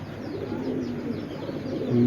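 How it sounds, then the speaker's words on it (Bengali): Low, soft cooing of a pair of Pakistani pigeons repeating in a murmuring rhythm, close by, with a steady background hum and no talking. "এগুলো হলো পাকিস্তানি একজোড়া রিসার্ভ কবুতর"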